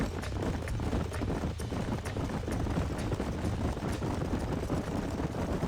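Horse hooves galloping in the video game Red Dead Redemption, a steady rapid clip-clop rhythm running continuously over a constant background of travel noise.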